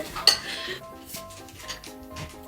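A spoon stirs food in a bowl during home cooking for a spicy food challenge, with a sharp clink near the start and then a soft, continuous scraping and clatter of utensil on dish, close by and with no talk.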